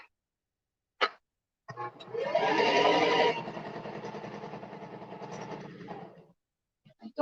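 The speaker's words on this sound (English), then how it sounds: "Don't sew the coin" A sewing machine running as it stitches over a coin: after a brief tap, the motor whirs steadily for about four and a half seconds, louder and harsher at first, then settling before stopping.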